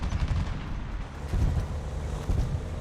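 A 125 mm tank cannon fires during a War Thunder battle, heavy low booms recurring about three times over a steady rumbling backdrop of engine and battlefield noise, loud and close.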